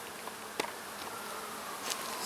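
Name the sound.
yellow jacket buzzing among honeybees at a hive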